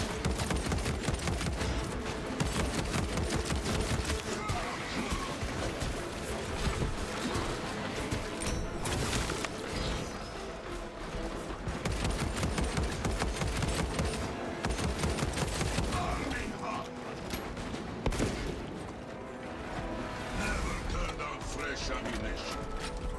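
Rapid gunfire from a gun in a space shooter video game rattles on almost without a break, loud and dense, with mechanical clatter and explosions mixed in and a voice talking underneath.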